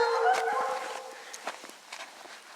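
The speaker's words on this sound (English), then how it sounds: "And here come the dogs." Hunting hounds bay and howl in the distance outdoors during an eastern coyote hunt, a drawn-out howl fading into scattered short barks.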